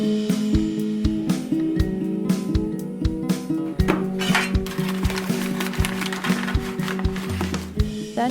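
Shortbread dough of butter, vanilla, powdered sugar and salt being mixed by hand, with steady rhythmic knocks and scrapes against a bowl, loud and close, over soft background music.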